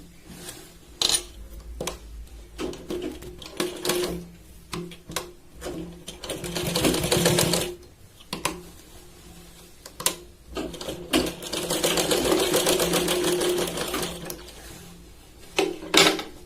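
Sewing machine double-stitching piping on a Katori blouse, running in short bursts and then two longer steady whirring runs, close and clear with no talk.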